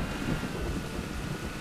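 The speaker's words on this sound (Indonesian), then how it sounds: "Lihat. Hujan deras dong." Heavy rain in a battle royale video game, a steady dense hiss of downpour with low rumbling, continuous and fairly loud throughout.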